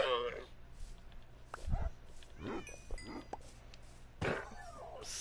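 Tamed wolves in Minecraft (Bedrock, PS4) bark and yip in short, scattered bursts while people talk over the game sounds.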